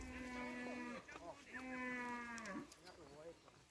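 Cattle moo on an African village farm during a sweet potato harvest, with two long drawn-out moos and a shorter one after them, soft and somewhat distant against quiet outdoor background noise.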